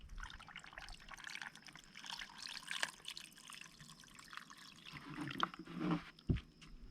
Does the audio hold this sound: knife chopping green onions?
no